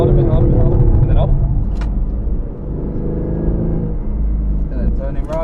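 A 2020 Aston Martin V8 Vantage on the Silverstone International Circuit pulls steadily under acceleration, its engine drone and rumble continuous beneath a voice giving instructions.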